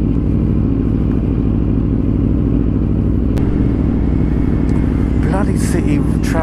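A 2017 Aprilia RSV4 RF sport motorcycle with a carbon Akrapovic slip-on exhaust rumbles steadily and loudly at close range, a deep throaty drone with a voice speaking briefly near the end.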